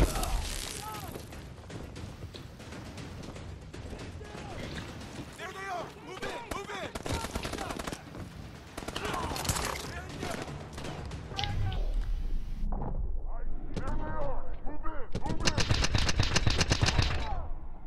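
Rapid gunfire from the Advanced Warfare campaign video game, dense bursts of shots cracking one after another across the whole stretch, with a person talking over the action and a heavier, louder volley near the end.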